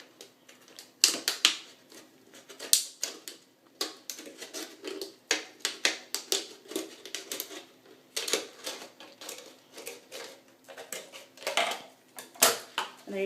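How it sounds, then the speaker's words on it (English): Scissors cut around a plastic water bottle in a steady series of sharp crinkly snips and plastic crackles, close up and fairly quiet, repeating irregularly about once or twice a second. "I use my scissors to go around cutting it"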